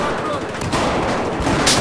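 BB guns fire in quick bursts, with sharp popping shots over busy background noise and a loud burst near the end.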